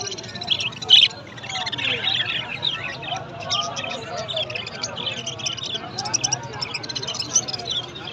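Small caged birds chirp and tweet continuously at a busy Sunday bird market, high rapid calls over a murmur of crowd chatter and someone talking.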